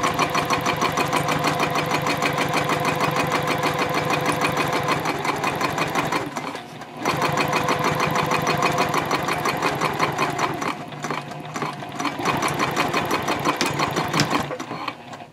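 A sewing machine stitches vinyl bag lining at a long stitch length, its rapid needle chatter steady and close, with a brief pause partway through before running on.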